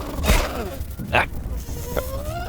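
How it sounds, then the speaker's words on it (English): Bees in the video game Grounded, short buzzing bursts passing close by in quick succession, sharp and nasal against a soft game background. "But it is gonna make the bees mad."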